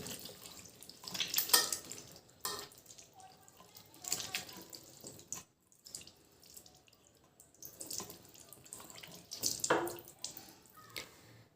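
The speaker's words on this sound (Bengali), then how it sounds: "এবার দেখো আমি নর্মাল জল দিয়ে হাত দুটো ভালো করে ধুয়ে নিচ্ছি।" Hands being washed under a running tap with plain water: faint, close splashing and trickling comes in uneven bursts with short quiet gaps between rubs.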